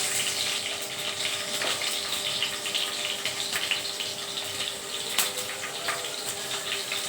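Green chilies sizzle in hot oil in a pan, giving a steady, soft, hissing crackle with scattered pops, fairly faint and with no voices.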